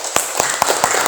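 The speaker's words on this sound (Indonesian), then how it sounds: "Tepuk tangan semuanya" A classroom of students clapping hands together at their teacher's request, a few sharp separate claps standing out over a steady background hiss.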